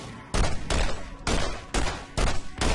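Loud sniper rifle shots in the video game Borderlands, five heavy blasts in steady succession, each with a sharp attack and a rolling tail before the next.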